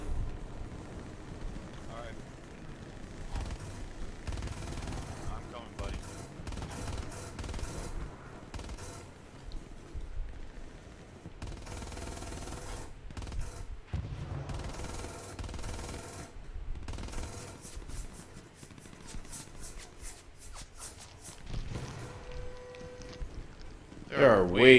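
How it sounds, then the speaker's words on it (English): Rapid bursts of gunfire crackle through a WWII-era firefight in the shooter game Squad, dense and continuous with occasional louder volleys, while players talk over the shooting. "Way too many bullets flying around here."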